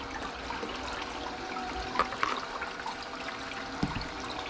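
Water and material running through a Desert Fox gold panning machine, a steady rushing, trickling wash with a few brief clatters, moderately loud and continuous with no talking.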